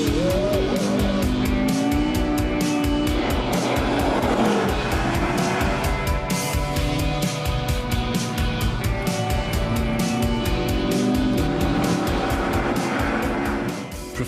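A McLaren F1 car launching on a slippery runway at 4,000 RPM: a loud, steady engine roar with squealing tires, sustained and close throughout.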